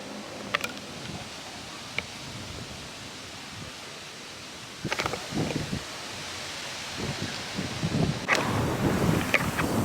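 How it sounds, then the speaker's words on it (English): Wind blows outdoors beside the Erie Canal, a steady, breathy rush that buffets the microphone, with scattered rustling and a few faint knocks and clicks. "I don't know if you can hear that, but it's a little windy."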